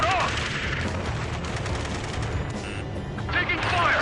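Combat in Ace Combat 7 crackles with sustained gunfire and explosions near a space elevator, dense overlapping bursts and booms with radio voices shouting over the battle.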